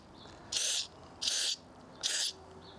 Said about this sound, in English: So we're just going to spray it down real good with several good sprays.